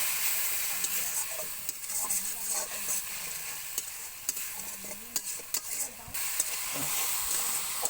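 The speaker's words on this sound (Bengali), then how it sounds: "জল দিয়ে ভালোভাবে মশলা কষিয়ে নিতে হবে।" Spice paste with turmeric and water stir-fried in a pan for a prawn and banana flower curry: steady sizzling and hissing with repeated scraping stirs of a spatula, close and continuous.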